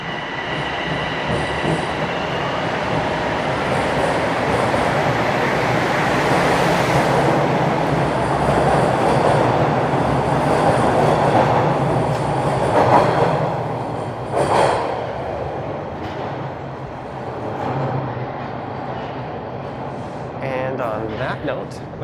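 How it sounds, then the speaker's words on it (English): Train rolling past on Queen Street East in downtown Toronto on a cold, rainy day, a loud close rumble with wheel squeal and clatter building and fading over about twenty seconds, with rain and street noise around. "And this would be the train I would have wanted."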